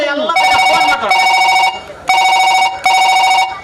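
A telephone rings in a staged social drama, with loud bursts of electronic ringing separated by short gaps and a voice briefly heard at the start.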